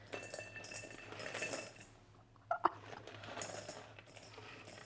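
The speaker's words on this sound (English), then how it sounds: "Just hear the trickle of crispy potatoes hitting metal." Crispy roasted potatoes tumble onto a metal tray in a brief clattering trickle, a cluster of light metallic clinks mid-way over a quiet kitchen background.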